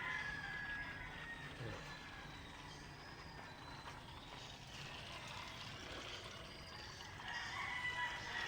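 A steady rush of water pours continuously into a container, with a constant hiss throughout and faint background sounds underneath.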